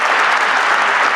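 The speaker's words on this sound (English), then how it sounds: "You applaud because you lived through it." Dense, loud audience applause fills the clip, a continuous close wash of many hands clapping with no gaps and no voices over it.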